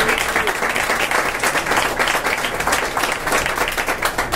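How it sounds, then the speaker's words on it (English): Sustained applause from an audience at a political speech during an AAPI Heritage Month event at a Chinese restaurant, a dense, steady wash of many clapping hands filling the whole stretch without talk. "give Mark a great round of applause for the work that he did."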